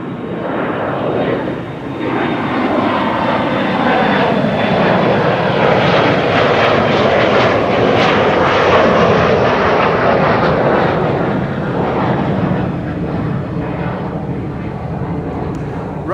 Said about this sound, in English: the Embraer taking off over here